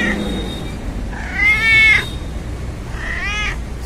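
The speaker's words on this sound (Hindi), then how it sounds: "देखो बिल्ली कुत्ते को डराने जा रही है, कुत्ता डर के भाग गया" An angry cat confronting a dog lets out two drawn-out, wavering yowls, the first louder and longer, with a quiet gap between them and no talking.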